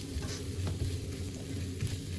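Rice is stirred into hot masala in ghee in a pan while biryani is being made, giving a steady low sizzle and soft scraping stir that run evenly through the clip.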